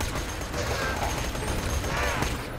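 Dense gunfire from a shooter video game, Borderlands 2, a steady wash of rapid shots and clatter filling the whole stretch at an even loudness, with no clear pauses.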